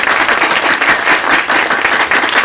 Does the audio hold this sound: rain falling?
no